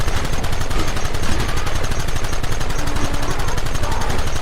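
A dense, loud barrage of rapid gunfire from a shootout in the video game Red Dead Redemption, with shots overlapping continuously in a steady, close, chaotic volley.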